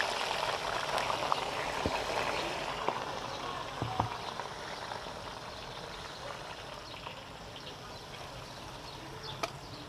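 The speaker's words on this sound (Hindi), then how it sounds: "अब हम प्याज इसमें डालेंगे, प्याज फ्राई करेंगे।" Sliced onions sizzling in hot oil in a pan alongside half-fried karela for a chicken karela dish, a low steady crackle and hiss with occasional sharper pops, no talking.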